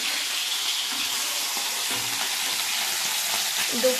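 Small chuno fish frying in a pan hiss in a loud, continuous, close sizzle that stays even from start to finish, with no talking.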